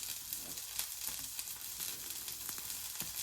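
Kimchi frying in a pan gives a soft, steady sizzle with faint crackles and occasional stirring clicks, quiet and close, with no talk over it.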